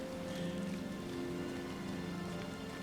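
Rain falls steadily across a game valley beside beach items, a continuous even patter with a faint tonal hum beneath it, unbroken and without talk.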